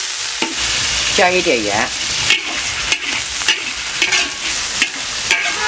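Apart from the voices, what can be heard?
stir-frying pork with sour radish in a wok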